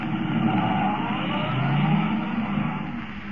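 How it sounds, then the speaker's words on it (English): Car engine sound effect from a radio drama, a car forced to the limit of its speed, droning loudly and continuously at high revs with no speech over it. "Forcing the car to the limit of its speed, Kent races toward Linwood"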